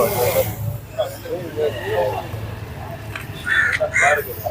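Crows cawing at an evening fish market, several harsh caws rising over a steady hum of market chatter and background bustle, people talking throughout.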